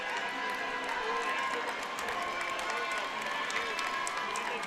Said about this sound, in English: Crowd begins to get a little engaged here